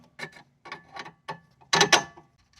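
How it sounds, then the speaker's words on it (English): A wrench ratchets on the end link nut of a 2012 Fiat 500 held with an Allen key, a handful of close, separate clicking bursts with short gaps, the last pair louder. "you put the Allen key in there, use your wrench, and spin it on"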